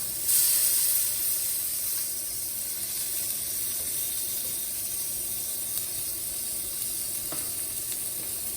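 Salmon fillet sizzling in a pan of infused oil for a flesh-side sear, a steady bright hiss and crackle that flares briefly at the start and then holds even and close.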